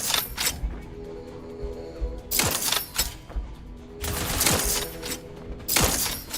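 Gunfire in The Outer Worlds 2, heavy bursts of rapid shots in clusters separated by brief lulls, loud and close, with battle noise underneath.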